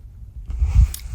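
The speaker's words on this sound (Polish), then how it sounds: "Jem Kinder Bueno, bo zasłużyłem." Kinder Bueno chocolate bar chewed close to the mouth outdoors in the Tatra mountains: near silence, then a short burst of moist crunching and chewing, loud and alone.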